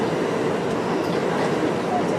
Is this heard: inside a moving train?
yes